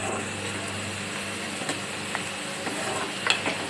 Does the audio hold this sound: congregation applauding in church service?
no